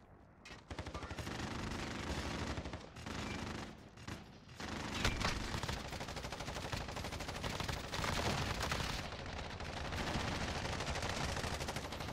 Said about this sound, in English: Shooting everywhere.